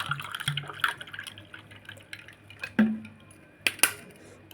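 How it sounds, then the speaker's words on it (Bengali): Cold water pours and drips into roasted mango sherbet in a container, with close splashes and clinks of a utensil or glass coming in short, uneven bursts over a quiet background. "এবার ঠান্ডা জল দেব।"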